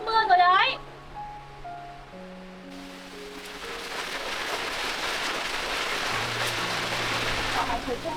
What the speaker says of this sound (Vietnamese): Đang nắng mặt trời lại để mưa ngay về rồi.